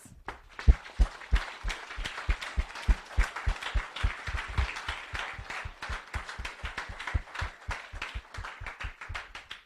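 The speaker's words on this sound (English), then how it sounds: "So a big round of applause." A crowd at a robotics scrimmage event in Murraylands, South Australia claps in sustained applause for several seconds, with dense, uneven hand claps that swell early and then continue steadily.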